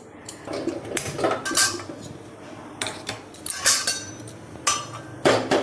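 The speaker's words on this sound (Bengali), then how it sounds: "কড়াইটা বসিয়ে দিলাম" A metal wok set down on a kitchen stove, with a series of sharp metallic clanks and knocks at irregular intervals, close by with a quiet room in between.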